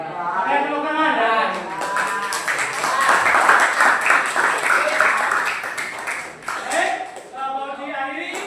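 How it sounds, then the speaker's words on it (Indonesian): An audience claps after a school group presentation, a dense burst of applause in the middle of the clip with a voice speaking just before and after it. "Tepuk tangan ya."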